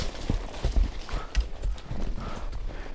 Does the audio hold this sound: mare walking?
yes